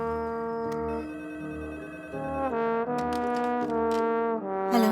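A melodic phone ringtone plays, a tinkling electronic tune of steady repeating notes, with no voices.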